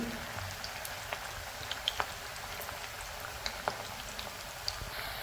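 Banana slices fry in sunflower oil on a high flame for sharkkara varatti, giving a steady hiss of bubbling oil broken by scattered sharp crackles and pops.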